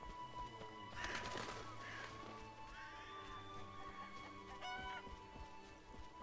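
Geese honking in The Witcher video game, a few brief nasal honks over a steady game ambience with no talking.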